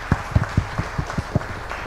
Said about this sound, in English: Let's give these guys, all the panelists, a round of applause.